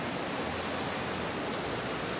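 Steady broadband rush of a creek swollen by overnight rain, floodwater flowing continuously and fairly close, with no voices over it.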